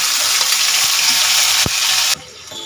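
Ground spice paste fries in hot oil with a cinnamon, clove and cardamom tempering, making a loud, dense, steady sizzle and crackle with one sharp knock, then dropping suddenly quieter near the end.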